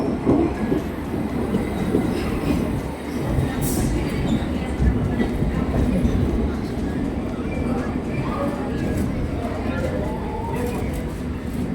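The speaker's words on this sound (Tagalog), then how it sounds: "the train is here" A train pulls into a station platform in the UK with a steady, loud rumble of wheels on rails and rolling carriages throughout, while voices chatter over it.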